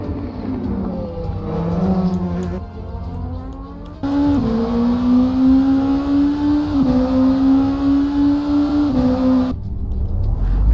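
A race car in the Le Mans Virtual sim, an LMP2 prototype at the 24 Hours of Le Mans, screams down the start-finish straight with a loud, sustained engine tone that rises through gear changes, then fades at the end.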